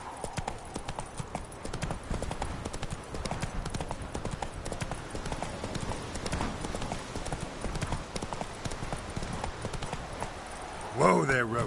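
Hooves of Roach, a horse in a PS4 video game, clip-clop at a steady trot throughout. A voice speaks over the hoofbeats, and a short sharp burst of sound comes near the end.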